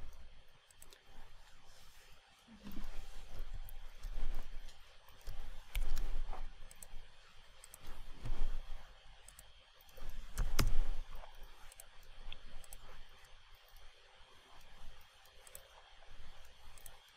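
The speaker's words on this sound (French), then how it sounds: "quand je clique n'importe où, ça ne passe pas à la page suivante" A computer mouse clicks faintly and intermittently as someone works through an interactive PDF on a computer, the soft, scattered taps sitting over a low room hum.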